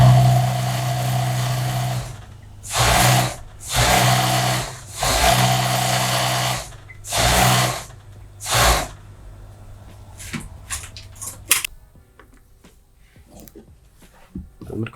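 A sewing machine stitches a zigzag seam on a hijab skirt in several short, fairly close bursts of whirring separated by pauses, followed by light clicks and handling noises.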